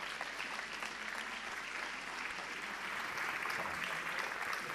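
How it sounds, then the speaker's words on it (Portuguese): An audience at a conference talk on Google hacking breaks into sustained applause to welcome a speaker, a dense, steady wash of clapping heard from within the room. "le pido un enorme aplauso para Edson Borelli, por favor."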